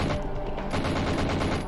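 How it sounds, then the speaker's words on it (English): Rapid enemy gunfire in the PlayStation game 007: The World Is Not Enough, final Marine Meltdown level, a dense burst of loud repeated shots in quick succession. "these guys are still shooting at me"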